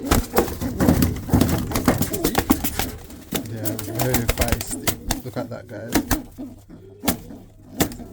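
Pigeons in a loft cooing softly among close rustling and movement, with someone talking over them throughout and a couple of sharp knocks near the end.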